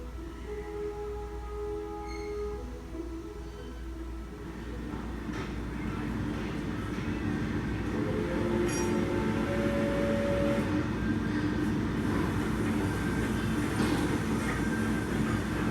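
Steam locomotive Cardiff 1021 running on rail, a steady rumbling roll of wheels and carriage growing slightly louder and nearer, with faint squeals and clanks over a continuous low drone.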